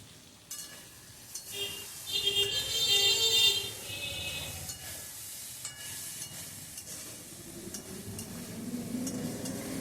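Vegetables sizzle in a hot pan, with a spoon stirring and scraping now and then; no talking.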